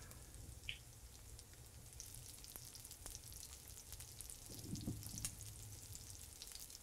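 A cheesy spicy shrimp cake fries in a pan over medium flame, a steady, soft, continuous sizzle with faint crackles, close and even throughout.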